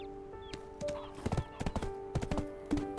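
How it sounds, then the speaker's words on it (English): Horse hooves clip-clopping in the video game Black Desert, sharp close hoofbeats in uneven clusters with a whinny and steady sustained background tones. "This is my horse."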